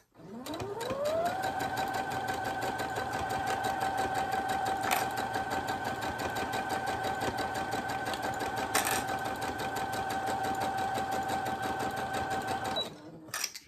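Sewing machine running steadily for about twelve seconds as it stitches fabric for a children's cloth drawing book, a sustained motor whine that spins up at the start and stops near the end, loud and close.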